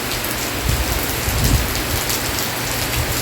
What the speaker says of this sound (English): This is the type of rain we get here in Belize, where it's pouring.